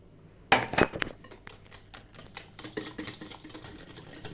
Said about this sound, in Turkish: Yumurtayla şekeri çırpıyoruz kıvam alana kadar